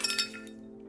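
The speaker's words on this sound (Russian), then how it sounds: "О, со звону разбили вдребезги чашка." A cup smashing to pieces in the Tiny Bunny video game: a bright, close glass-like crash with a few quick clinking fragments, then a ringing tone fading out within a second.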